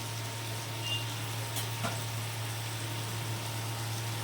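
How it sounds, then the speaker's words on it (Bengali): Potatoes with salt and turmeric frying in a pan over a raised gas flame, a steady sizzle with faint scrapes of stirring, close and continuous with no talk. "আলুটাকে ভালো করে নাড়াচাড়া করে নিচ্ছি"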